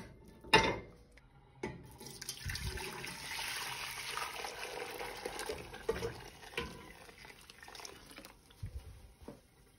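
Chicken broth is strained and poured back into a pan, starting with a metallic clank and then a sustained splashing pour with light drips and pot handling, close and moderately quiet.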